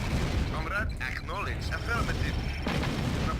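A tank fires in the Red Alert strategy video game, heavy booming cannon shots and explosion rumbles layered over dense low battle noise, with a voice talking over the action.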